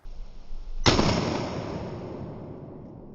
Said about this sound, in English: Some good explosions there.